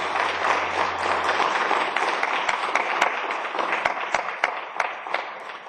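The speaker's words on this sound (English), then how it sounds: "Let's give them a round of applause." Audience applause after a panel discussion at a conversation café event, a steady dense wash of many hands clapping that holds for several seconds and slowly thins toward the end.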